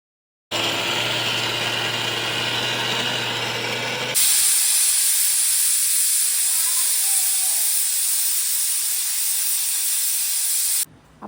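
A pressure cooker holding cassava on the stove gives off a loud, continuous steam hiss that shifts in tone partway through, with no talking.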